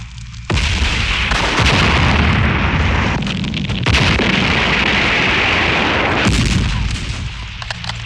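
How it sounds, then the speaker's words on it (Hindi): Covering fire in a war-film battle scene: dense, continuous volleys of gunfire and booming blasts, loud and close, sustained across the whole stretch with brief surges, no talking. "धर्मवीर साहब आ रहे हैं, उन्हें कवरिंग फायर दो।"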